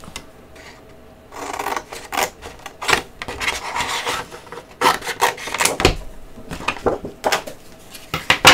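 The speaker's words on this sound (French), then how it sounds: "il faut que je découpe un morceau." Paper for a scrapbooking project is cut with rough rasping and crunching strokes in irregular bursts, close and moderately loud, with occasional sharp rustles.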